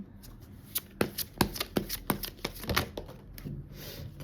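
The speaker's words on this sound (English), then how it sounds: "Let's just get three tarot cards." Tarot cards being shuffled by hand, a rapid run of crisp flicking riffles and soft papery slaps in an irregular rhythm, close and clear with no talking.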